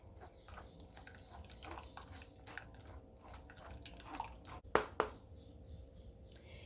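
Blended corn pulp squeezed by hand in a kitchen, giving soft wet squishing and trickling liquid dripping into a container, quiet and close, with two sharper wet splats near the end.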